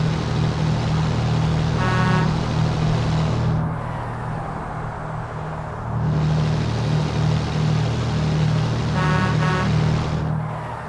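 A truck horn in Euro Truck Simulator 2 sounds twice, once near two seconds and again near nine, each a brief toot over a steady, loud engine drone.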